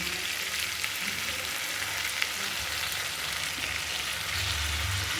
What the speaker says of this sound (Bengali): এবার আমি মধ্যে দিয়ে দিচ্ছি যে পেস্টটা করে রেখেছি আদা কাঁচা লঙ্কা আর ধনে পাতা ডাঁটাগুলো একসাথে দিয়ে দিলাম